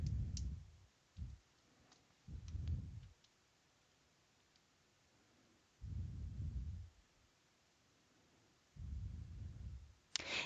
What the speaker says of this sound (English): I'm going to click the New Enrollment button